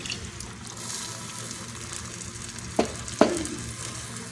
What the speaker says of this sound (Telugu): ఈ వాటర్ కూడా ఇందులోనే వేసుకుందామండి